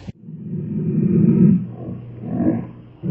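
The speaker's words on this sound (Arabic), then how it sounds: "لبؤة" A lioness lets out one long, deep, rumbling roar that swells and then fades, followed by a second shorter groaning roar, heard close and alone.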